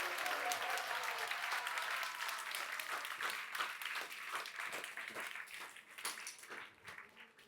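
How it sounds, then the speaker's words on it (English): An audience at a spiritual talk during a Kartika pilgrimage applauds the speakers, a full, steady round of clapping that grows more uneven and individual as it tapers off. "Give them a big round of applause."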